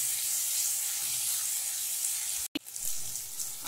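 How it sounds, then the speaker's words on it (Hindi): Sliced onions fry in hot oil in a pan, giving a steady, even sizzle and hiss that drops out briefly for an instant before resuming. "प्याज को हम गोल्डन ब्राउन होने तक तेल में भूनेंगे।"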